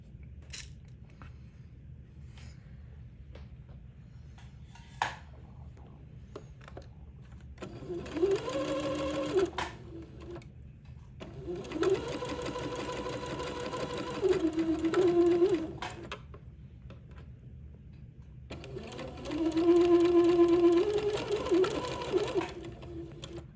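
Sewing machine stitching a narrow 3/8-inch seam on an old-fashioned baby boy's day gown, running in three close bursts of whirring with pauses between them over faint background hum.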